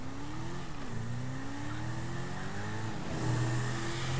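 Supercar engine in GTA 5 pulling away hard, a steady loud revving drone with rising and falling pitch as it shifts through gears, running continuously without any talk.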